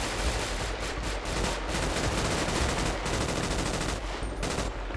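Sustained video-game gunfire in a GTA 5 roleplay shootout, dense rapid bursts of automatic shots rattling continuously at steady loudness throughout, with no voices over it.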